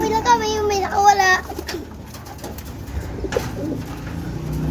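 Pigeons cooing in a loft, several soft throaty coos close by at the start, then quieter scattered calls, with people talking nearby.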